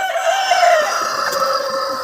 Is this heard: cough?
no